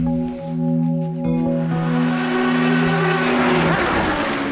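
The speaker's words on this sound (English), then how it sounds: "While the real cars continued to pound round Silverstone in total darkness" Race cars lapping Silverstone circuit at night during a 24-hour race, a loud engine note holding steady tones before rising into a roaring, whooshing pass close by, with no talk.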